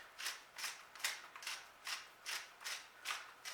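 Red and black pepper being ground by hand for moose jerky, a quiet, close crunching grind repeating in about nine even twists.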